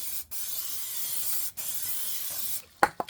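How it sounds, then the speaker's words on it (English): Brake cleaner sprays in steady hissing bursts onto the rear drum brake of a Mazda MPV, two long sprays with brief pauses between, ending in a couple of sharp knocks. "spray with brake clean, get all that brake dust off there"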